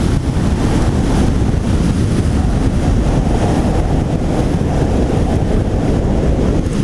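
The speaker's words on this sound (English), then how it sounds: "Again, there's a heavy wind." Heavy, constant wind roar buffets the microphone while riding a Chinese electric sportbike at about 70 on an open road, a dense low rumble filling the whole stretch without any talk.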